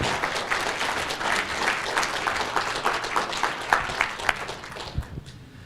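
Audience applause at a BSidesLV security conference talk, a dense steady patter of many hands clapping for several seconds with a few sharper near claps standing out, fading slightly at the end.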